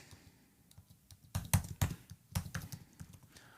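Fingers type a short name on a computer keyboard while setting up a new Mac mini, a few soft scattered key taps followed by a brief cluster of louder clicks, close and without speech.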